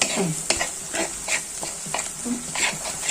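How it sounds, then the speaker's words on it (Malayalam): Masala paste for a spicy anchovy curry sautés in oil on a low flame, giving a soft background sizzle broken by repeated scraping stirs of a spoon in the pan. "നല്ലതുപോലെ ഇതിനകത്ത് എണ്ണ തെളിഞ്ഞ് വരത്തക്ക രീതി നമ്മൾ വഴറ്റിയെടുക്കാം"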